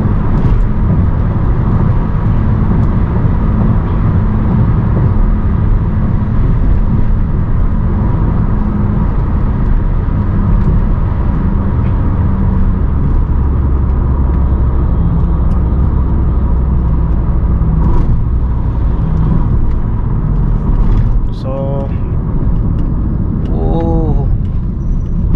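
A car engine drones loud and steady under hard acceleration with the pedal floored, an unbroken roar running the whole time while voices talk over it.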